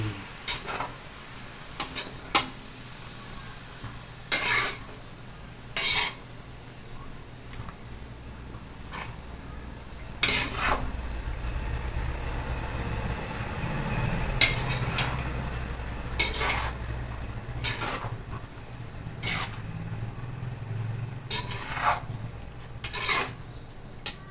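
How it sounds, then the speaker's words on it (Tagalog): A peanut and sugar mixture is stirred in a pan with a spoon, making steady scraping and soft sizzling punctuated by sharp taps against the pan. "Peanut. Saka asukal. Haluin lang ng mabuti."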